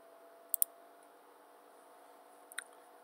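Two quick clusters of faint computer keyboard key clicks, a short double tap followed two seconds later by another small burst, over a quiet steady room hum.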